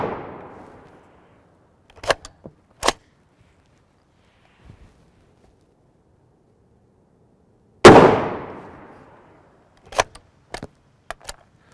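Sharp rifle reports from 7.62x51mm NATO DAG trainer rounds fired through an AR-10, loud close cracks spaced a second or more apart, followed by faint metallic clinks and light rattles.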